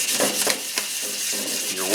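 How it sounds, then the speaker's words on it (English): Wet sanding of a Chevrolet Malibu's plastic headlight lens with 1,000 to 2,000 grit paper and soapy detergent water gives a series of rhythmic rubbing strokes, close and moderately loud. "I just do it like I'm wet sanding about anything."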